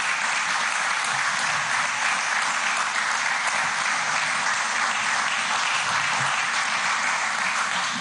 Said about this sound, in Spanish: Quiero, con todo respeto, pedir un aplauso para los familiares que están aquí